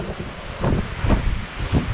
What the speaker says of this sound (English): Obviously it's kind of windy